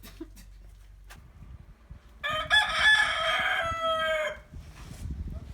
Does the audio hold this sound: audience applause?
no